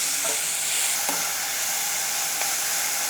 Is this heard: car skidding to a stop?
no